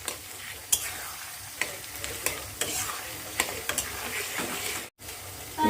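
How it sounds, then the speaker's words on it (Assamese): Onions sizzle softly in a frying pan, with a steady crackle broken by intermittent scrapes and clicks of stirring, heard alone at close range. "এতিয়া পিঁয়াজখিনি এনেদৰে ভাজিম।"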